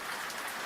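Steady rain falls in a dense, even hiss of drops, close and continuous for under a second with no voices.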